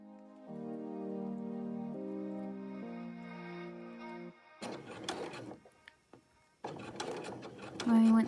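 A sewing machine top stitching a dog bandana runs with a steady, humming motor whir that shifts pitch slightly for about four seconds, then stops, and a person speaks afterward.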